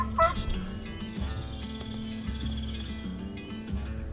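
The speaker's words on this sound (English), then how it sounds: "Finally, 30 minutes after legal shooting light, we heard the first gobble" A wild turkey gobbles in the morning during a spring hunt, one rattling gobble early on, followed by a quiet outdoor background with faint birdsong.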